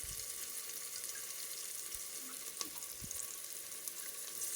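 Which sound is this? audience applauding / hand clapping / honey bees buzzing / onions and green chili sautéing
onions and green chili sautéing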